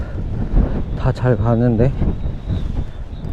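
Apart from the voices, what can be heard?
strong wind on a cliff path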